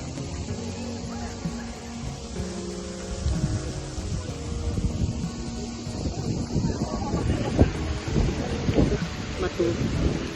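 Gusty wind roars and rustles steadily in Valletta, with low rumbling buffeting that grows stronger toward the end; no speech stands out.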